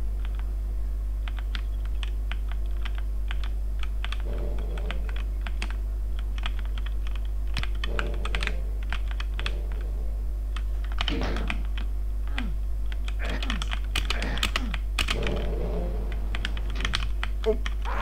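Typing on a computer keyboard during a session of Doom comes as bursts of close, crisp key clicks in irregular clusters over a steady low electrical hum, with some speech mixed in.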